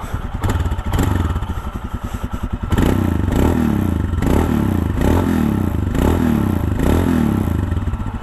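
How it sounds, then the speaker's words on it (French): A Royal Enfield Himalayan 411cc single-cylinder motorcycle idles with a loping thump, then is revved up and down in a series of rising and falling pulls, loud and close with some mechanical clatter. "Ça me fait penser au vieux trail mono à l'ancienne."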